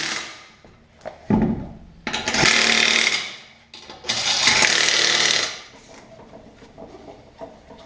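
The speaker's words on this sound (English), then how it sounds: "I can go ahead and tighten up the lug nuts" Lug nuts being tightened on the rear wheel of a Kia Spectra, two long loud bursts of impact-wrench-style mechanical clatter separated by short knocks and clanks of metal, ending in quieter rattling.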